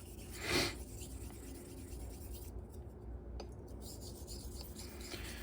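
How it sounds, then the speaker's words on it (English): A Gold Dollar straight razor having its bevel set on a hone, steady rasping strokes scraping back and forth close up, with one louder stroke early on. "I'm doing a lot of Eric's one-handed bevel setting"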